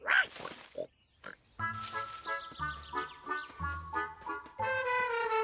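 A cartoon pig gives a run of voiced, rhythmic grunts and oinks, loud and close, repeating in short bursts.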